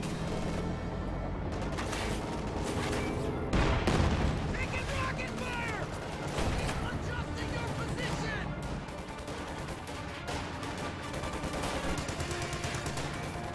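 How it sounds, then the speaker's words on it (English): Grenades blast amid dense gunfire in a video game battle, sharp booms standing out from a constant rattle of shots while a commentator talks over the action. "Grenades being exchanged."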